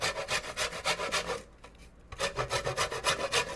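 A lemon is scraped against an improvised grater in place of a zester, giving a rapid, even series of close raspy strokes with a short pause partway through, heard alone without talk.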